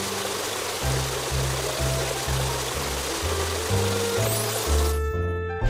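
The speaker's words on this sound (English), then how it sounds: "Now rinse off the foam." Water spray rinsing soap foam off a car in a children's car wash game, a steady hissing stream that runs the whole time over a bouncy low music bed and cuts off sharply near the end.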